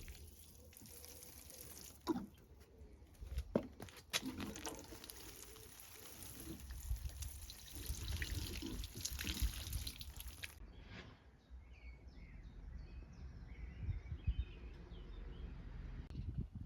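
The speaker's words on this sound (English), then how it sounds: "I'm now going to give everything a really good and thorough water." Water poured over container garden plants, a steady soft splashing and trickling close by that cuts off partway through, leaving faint drips and quiet outdoor ambience with occasional bird sounds.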